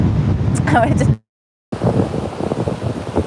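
Gusty wind buffets the microphone with loud rumbling roar, cut by a brief silent gap, then continuing strongly.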